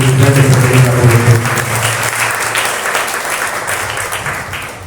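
A church congregation at a parish feast Mass in Kuruvikulam breaks into loud, sustained applause, dense clapping from many hands, with a voice briefly over the start before the clapping fades slightly.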